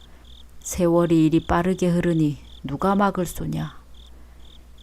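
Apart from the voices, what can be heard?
crickets chirping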